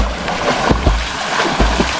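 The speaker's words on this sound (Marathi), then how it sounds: "इथनं पाणी येतं खाली" River water rushes and splashes downstream, close and fairly loud, with a steady churning wash broken by occasional low splashes.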